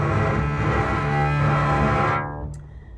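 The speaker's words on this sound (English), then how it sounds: "you put your bow as close to the bridge as you can, and it makes a really scratchy, wonderful, loud sound like this." A double bass bowed sul ponticello, the bow pressed right against the bridge, gives a loud, scratchy, overtone-rich sustained tone for about two seconds before it cuts off and a faint ringing decays.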